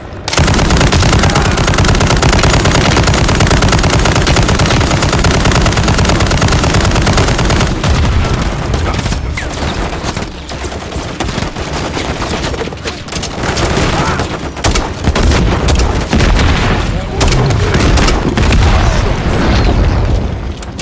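Sustained gunfire in the video game Call of Duty Modern Warfare III: loud machine-gun bursts and booming shots pour out almost without pause for twenty seconds, with heavy explosive thumps and brief lulls in the chatter.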